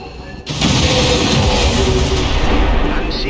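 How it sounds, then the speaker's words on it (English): A loud explosion in XCOM 2 erupts after a brief quiet, then rolls on as a sustained, heavy roar with debris rumble, close and powerful, with faint game voices beneath. "Loud explosion draws a lost swarm."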